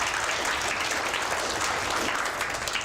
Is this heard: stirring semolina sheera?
no